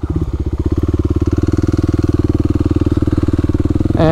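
A Kawasaki KLX300 dual sport motorcycle rides a trail on a hot summer day, its engine holding a steady, loud, rapid pulsing drone close by, with a brief shift in tone near the end and no voices.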